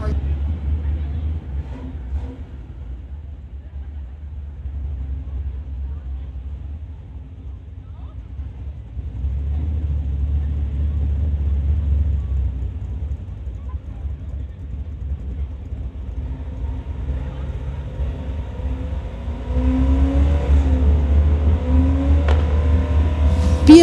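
At a street-legal drag racing event, a BMW and a Ford truck rumble and accelerate, with a deep engine drone that grows louder toward the end, heard under voices over the track.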